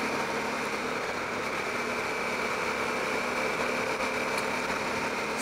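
A motorbike engine idles steadily at close range, a constant rumbling drone with no speech over it.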